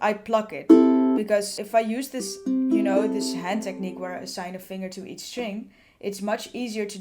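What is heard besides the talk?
No everyday noise stands out behind the speech.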